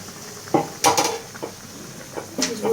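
Hilsa fish pieces dropped into a pan of aubergine curry, a few close clattering knocks of utensil against pan with short bursts of sizzle, separated by quiet gaps.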